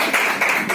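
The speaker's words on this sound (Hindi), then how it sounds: "तो ताली बजाएगा" A few sharp hand claps ring out in a quick, even rhythm, close and fairly loud, during a census training role play.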